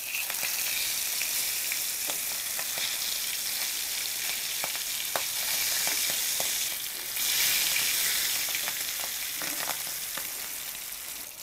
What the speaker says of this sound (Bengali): একটা পাশ ভাজা হয়ে গেছে, আমি সাবধানে মাছের টুকরোগুলো উল্টে দিচ্ছি